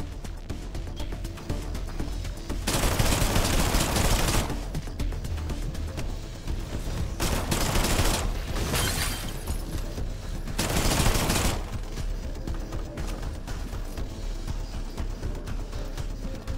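Gunfire from standard weapons in the System Shock Remake video game, three dense bursts of rapid shots standing out over a steady background hum, loud and close, with no talk.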